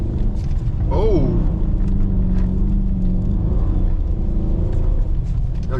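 A 2014 Dodge Charger R/T AWD drifts in snow, its engine a loud low rumble with a brief rising rev early on, while people talk inside the car.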